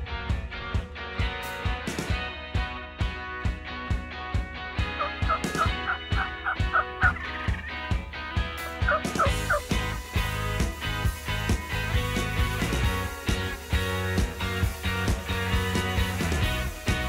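Several Merriam's wild turkey longbeards gobble repeatedly from a strutting group down by a creek, the calls carrying from a moderate distance with rolling, overlapping bursts across an open afternoon setting.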